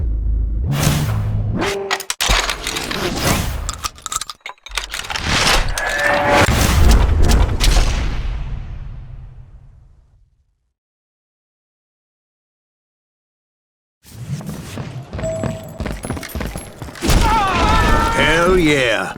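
Heavy shotgun blasts from Deputy Bob Ollinger's double-barreled scatter gun in the Western shooter Call of Juarez Gunslinger, loud booming thumps amid gunfire, music and game effects, cut by a long silent gap before the action resumes.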